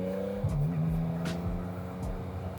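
A Yamaha MT-09 motorcycle with an A2 power restriction accelerates, its engine note climbing and shifting, steady and fairly close, heard alone without talk.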